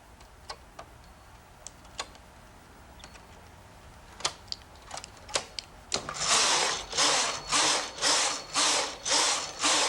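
A knitting machine carriage is pushed across the needles while cables are being knitted, first giving scattered sharp clicks and ticks, then a loud, steady run of rhythmic whooshing, clattering passes close by.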